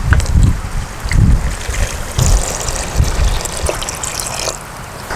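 Water is poured onto corn flour for halwa, giving gushing, splashing pours in several surges that are loud and close, then trailing into a lighter trickle.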